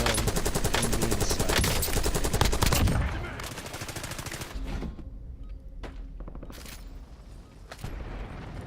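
Rapid automatic gunfire in Call of Duty Warzone on the Verdansk map, loud and dense for about three seconds, then sparser distant shots and scattered bursts.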